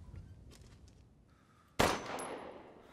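A single loud gunshot in Resident Evil Village, a sharp blast with a ringing decay after a quiet stretch of faint ambient game sound.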